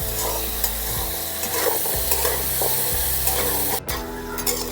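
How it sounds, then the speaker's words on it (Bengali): Potatoes frying in oil with salt and turmeric give a steady, close sizzle, with a spatula stirring and scraping at intervals throughout. No one speaks. "সামান্য একটু লবণ, হলুদ গুঁড়ো, নাড়াচাড়া করে লাল করে ভেজে নেব।"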